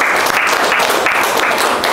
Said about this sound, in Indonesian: Oke, tepuk tangan untuk teman kita di kelompok 3.